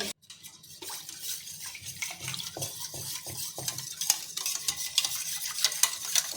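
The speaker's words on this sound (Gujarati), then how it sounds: "પાણી ઉમેરીને પણ તમારે આ રીતે અહીંયા સરસ મિક્સ કરી લેવાનું છે" A spoon stirs Rajasthani Marwadi kadhi batter mixed with water in a bowl with steady, rhythmic scraping strokes, close by, with light clinks toward the end and no talking.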